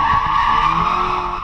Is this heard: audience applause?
no